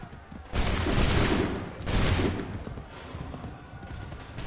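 Musket volley fired on command in Assassin's Creed 3: two loud, crackling massed discharges about a second apart, each ringing out and fading into battlefield rumble.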